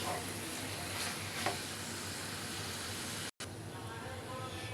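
Mutton frying in a pan while being stirred, a steady close sizzle with light scraping, briefly cutting out for a moment near the end before resuming.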